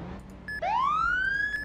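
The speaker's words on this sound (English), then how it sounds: "And you got the older siren." An older-style police car siren in the Roblox game Emergency Response Liberty County, a single loud rising wail that climbs smoothly, preceded by a brief tone.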